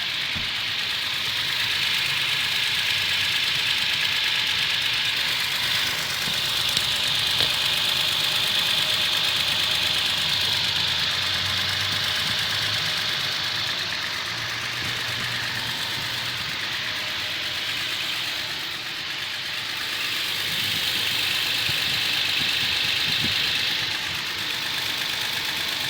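A Toyota Tacoma engine idling with an abnormal noise, a steady ticking or knocking rattle over a low running hum at moderate level, continuous throughout and without talking.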